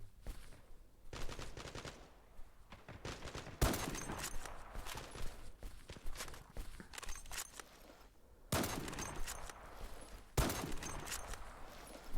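Gunfire in the online shooter Zula Strike: bursts of rapid automatic fire and single shots recur throughout, loud at times and fainter in between, with busy game noise filling the gaps.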